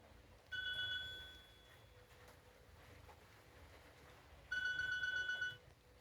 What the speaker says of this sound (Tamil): இது என்ன ஃபோன் வருது?